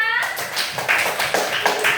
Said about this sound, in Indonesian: Beri tepuk tangan untuk Rafia